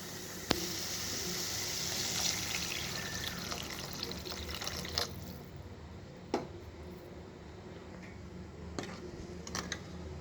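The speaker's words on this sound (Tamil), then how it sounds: "தேவையான அளவு தண்ணி ஊற்றிப்போம்" Water pours steadily into a pan of tomato egg gravy, then the flow fades into quieter trickling with a few soft clicks and knocks, close and faint.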